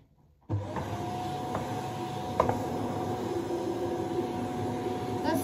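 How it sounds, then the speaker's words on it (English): A household vacuum cleaner switches on abruptly and runs with a loud, steady whirring roar and high whine, with a couple of brief knocks as it moves, no talk. "That's the last time I'm hoovering on camera"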